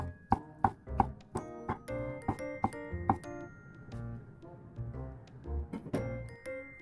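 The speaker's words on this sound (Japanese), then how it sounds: "ちくわ1本輪切りに切ります。" A knife slicing one chikuwa fish cake into rings on a cutting board, giving a series of crisp, close knocks with the blade hitting the board in an uneven rhythm, along with faint kitchen background noise and no talking.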